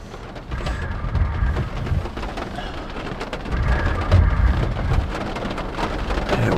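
A supercell thunderstorm over Council, Idaho brings heavy steady rain on surfaces with deep rolling thunder rumbling beneath it, loud and continuous throughout, with no speech.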